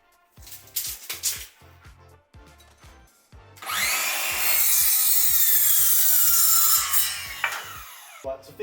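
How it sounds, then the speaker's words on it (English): A chop saw cuts light gauge steel battens to length, with a long loud grinding whine lasting about three seconds, set between scattered knocks and handling clatter. "I'm using my chop saw to cut these battens to length"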